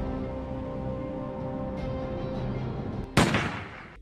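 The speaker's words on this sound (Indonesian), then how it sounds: "hingga si Kalajengking menembak kepalanya sendiri" A single sharp gunshot from the film Redeemer cracks out near the end over a steady background score, then decays.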